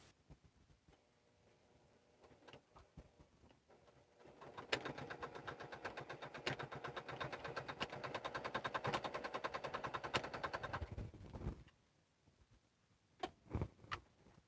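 A sewing machine stitches a quarter-inch seam on a bag, running in a fast, even mechanical rattle for about seven seconds after some quiet handling noises, then stopping, followed by a few faint clicks.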